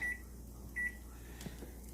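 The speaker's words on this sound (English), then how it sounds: "Then I'm going to set my timer for 10 minutes." Two short high beeps chirp from an oven timer as it is set, spaced under a second apart, faint over a steady low kitchen hum with a few soft handling clicks afterward.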